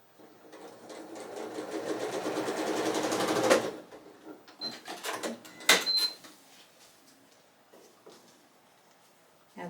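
A sewing machine runs steadily stitching a quilt block for a star-in-a-star pattern, its rapid needle rhythm building for about three and a half seconds, then stopping into softer handling clicks and brief taps nearby.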